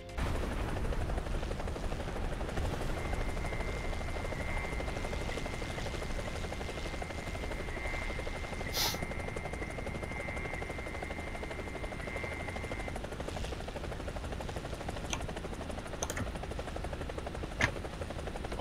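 Steady rotor and engine drone of a Gazelle helicopter in War Thunder gameplay, continuous and even, with a sustained tone through the middle and a few sharp clicks or shots near the end.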